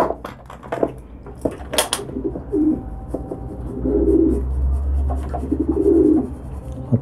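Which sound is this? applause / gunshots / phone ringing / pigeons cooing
pigeons cooing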